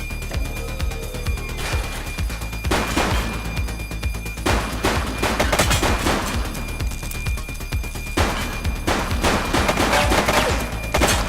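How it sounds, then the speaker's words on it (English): Heavy, sustained volleys of gunfire from a police shootout in The Precinct crackle and boom continuously, loud and near, with overlapping shots and no clear gaps. "She's shooting!"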